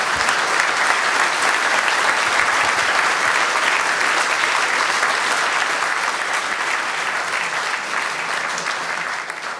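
A seated audience applauds to welcome guest Jean-Claude Juncker, a loud, dense, sustained wave of clapping that holds steady throughout and only eases slightly at the end.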